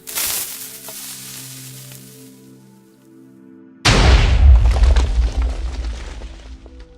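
A TNT cannon fires in a video game: a rumbling, crackling hum with faint tonal sounds gives way to a sudden loud explosive blast that decays into a long, noisy roar.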